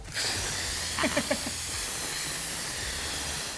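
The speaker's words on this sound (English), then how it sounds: "we're gonna turn it over to a quick release" An Instant Pot pressure cooker doing a quick release, a steady, loud hiss of escaping steam that runs throughout, with a few faint clicks early on.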